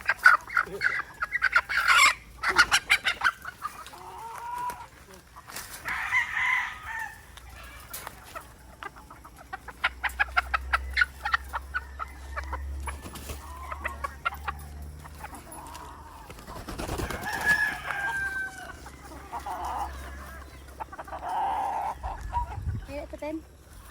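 White Kelso chickens in a free-range area cluck repeatedly in clustered bursts, with occasional louder calls rising over the flock, close by, while a person talks intermittently.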